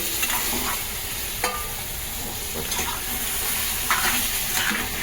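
Crabs are tossed in masala in a pan on a gas stove, giving a steady loud sizzle broken by sharp spatula scrapes and clinks against the pan, with no talking.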